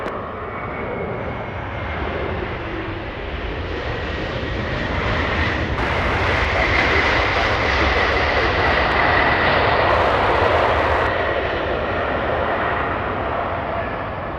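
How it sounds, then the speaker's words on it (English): An airliner taking off from runway 24 left at Los Angeles International Airport produces a sustained, loud engine roar that swells and holds, steady and continuous, with no talk over it. "runway 24 left, cleared for takeoff"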